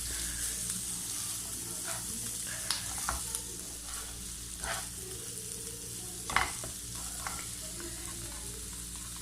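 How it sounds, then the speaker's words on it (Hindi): Onions frying with black pepper in a pan give a soft, steady sizzle with occasional stirring clicks and one louder knock, heard over a low background hum, without speech. "इसे बस 1-2 मिनट फ्राई करना है कि बस इसका थोड़ा सा कलर चेंज हो जाए"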